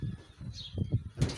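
A male racing pigeon in a pigeon release setting gives soft low coos and a brief flutter of wing flaps, close and faint, with no talk.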